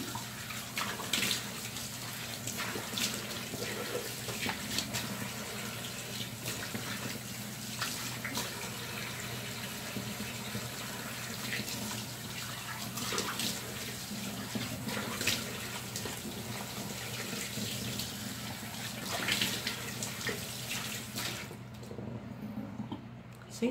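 Tap water runs steadily while soap is rinsed off skin, a continuous broad wash of splashing that holds near and even throughout before cutting off at the very end.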